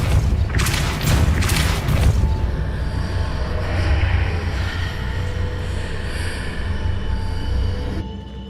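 The Depulso spell cast in the video game Hogwarts Legacy, a loud booming burst with sharp crackling flares over the first two seconds, then a rumbling, steady magical wash that holds until it cuts off near the end.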